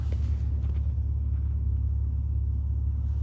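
A BMW M3 convertible idles nearby with a steady, loud low-pitched engine rumble that holds evenly throughout, without any talking.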